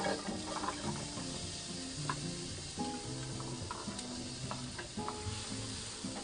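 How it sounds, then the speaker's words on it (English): Onions go into a sizzling pan of ground seasonings for burger cooking, and a loud, steady crackling fry runs throughout with scraping stirs and small clinks, close by and without talk. "I'm gonna add our onions."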